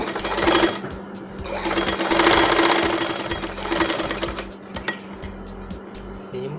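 An electric sewing machine stitches folded cloth into a thin strap, running in rapid mechanical bursts with brief pauses between runs, close and clear, with a faint voice in the background.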